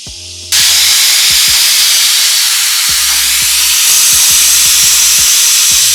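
Loud, steady hot-oil sizzle of fish frying in a pan with chilli added, beginning with a sudden burst and hissing continuously to the end, with faint clinks underneath.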